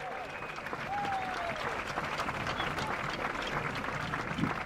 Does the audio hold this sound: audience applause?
yes